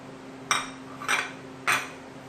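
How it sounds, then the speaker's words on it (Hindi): A spoon clinks against a bowl three times while chicken is mixed with lemon juice and dry spices, sharp metallic taps spaced about half a second apart over a faint background hum. "लेमन जूस और ये जो तमाम ड्राई मसाले हैं, इनको इसमें ऐड करके अच्छे से मिक्स कर लेंगे"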